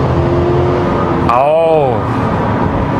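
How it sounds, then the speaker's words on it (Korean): A 2021 Cadillac Escalade Sport Platinum's V8 engine under kickdown acceleration inside a tunnel, a loud steady engine roar with a sharp rising exhaust sweep midway, echoing in the enclosed space. "터널 안에서 한번 킥다운 해보면은요, 요런 느낌입니다."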